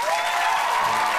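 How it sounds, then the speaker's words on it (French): An audience at an improv theatre match breaks into applause, a dense wash of clapping that fills the short moment, steady and fairly loud with a faint murmur of the crowd beneath. "Merci de m'applaudir."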